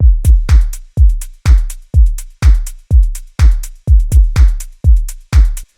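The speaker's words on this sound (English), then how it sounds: "they boost a lot in the subby kind of meaty part of the kick" Kick drum with heavily boosted sub low end and the click removed, struck about a dozen times in a steady beat with a few quick doubles, each hit a deep, booming thud that decays smoothly.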